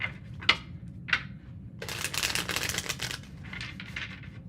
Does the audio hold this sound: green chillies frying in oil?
no